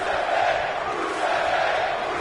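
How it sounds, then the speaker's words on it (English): Wrestling video game arena crowd chanting Rusev Day, a steady wall of massed voices swelling in a two-beat rhythm, distant and continuous without a break. "Crowd on their feet, chanting Rusev Day."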